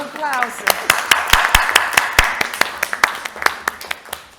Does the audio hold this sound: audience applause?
yes